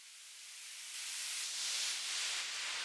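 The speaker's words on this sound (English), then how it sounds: "this white noise, giving the sweep in effect" Filtered white noise sweep in a deep house track, a smooth rising wash of hiss that swells and brightens over about three seconds, alone with no voices.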